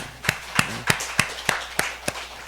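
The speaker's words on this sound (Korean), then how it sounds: "다시 한번 박수 한번 쳐주세요" Church congregation clapping in sharp, evenly spaced claps, about eight in steady rhythm, close and fairly loud with no talking over them.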